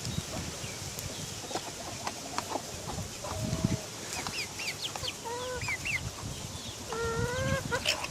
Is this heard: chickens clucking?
yes